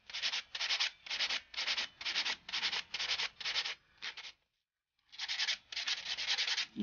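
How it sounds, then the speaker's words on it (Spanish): Hand polishing of an acrylic ring, with steady rhythmic rubbing strokes, about ten in a row, then a short pause and another run of strokes, close and fairly quiet with no talking. "Vamos a pulir muy bien."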